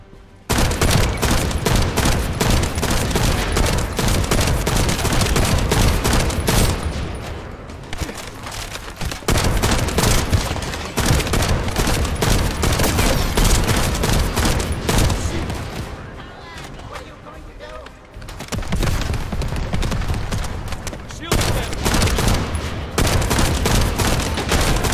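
Gunfire from the shooter game The First Descendant rattles almost continuously in dense, loud automatic bursts, broken by a couple of short pauses, with game effects layered over it.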